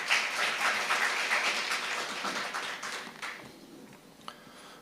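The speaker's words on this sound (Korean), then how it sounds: "여러분 큰 박수로 역시 환영해 주십시오." An audience at an academic conference opening ceremony at Kookmin University applauds with many hands, loud at first and then thinning and fading out over a few seconds.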